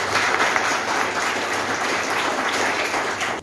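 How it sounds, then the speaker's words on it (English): Audience at a university orientation session breaking into steady, dense applause, loud and continuous for several seconds before trailing off at the end. "So let's clap for him."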